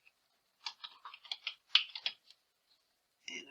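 Someone types the word Grandma on a computer keyboard to enter text in Cricut Design Space. The keys click nearby in quick bursts, pause briefly, then give one final short burst.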